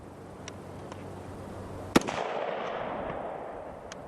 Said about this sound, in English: The pop that you hear as the gun is fired is the sound of the gases and the bullet as they escape the end of the barrel.